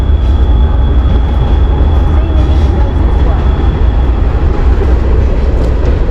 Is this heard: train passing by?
yes